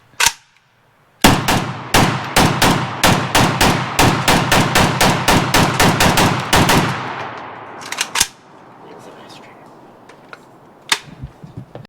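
Bulgarian SAM7SF carbine action worked, a rapid run of sharp metallic clacks and snaps in quick succession, close and loud, tapering to a few isolated clicks after a pause.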